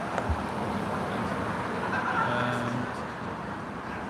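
Steady road traffic rumbles in the background on a wet, rainy day, a constant broadband wash with a brief low thump near the start and a faint tonal hum passing midway; no clear speech over it.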